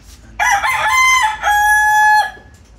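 A young bullstag rooster crows once, loud and close. It gives a long, drawn-out two-part call that fades at the end, with no talk.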